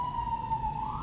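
A steady emergency vehicle siren wails outside at night in Manila, holding a single sustained tone that rises slightly at the end, moderately loud over low city rumble.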